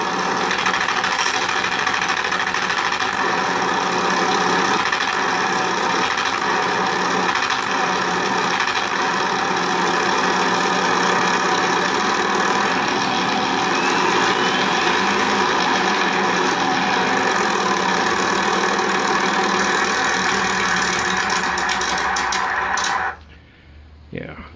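An RC model Spitfire Mk IXc with an ESS Air sound system plays a steady simulated piston-engine idle, a loud continuous buzzing drone close by that cuts off near the end, with a voice talking over it.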